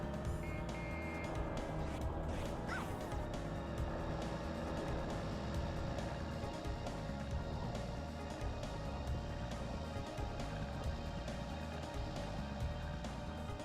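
Cars racing on Toad's Turnpike in the video game Mario Kart: Double Dash give a steady engine drone with sustained tones throughout, consistent in level and with no talking.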